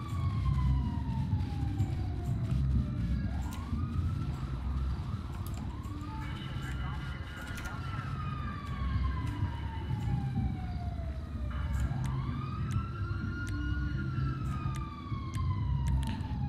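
Police car siren in an animated cartoon series, wailing up and down repeatedly over a heavy engine rumble, loud and close as it approaches.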